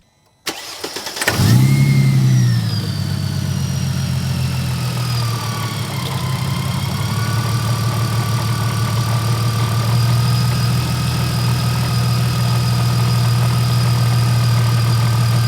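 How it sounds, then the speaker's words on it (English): A Mercedes-Benz SLK32 AMG engine cranks briefly, catches with a roar, then settles into a steady, slightly rough idle that continues without talk. "I just want to fire up the car"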